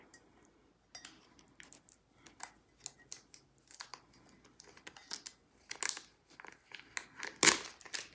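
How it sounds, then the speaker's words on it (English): Tape being peeled off a crafted mug, a series of quiet, sharp crinkly strips and ticks in uneven bursts, growing louder near the end, close up and without talking. "I'm gonna peel the tape off here."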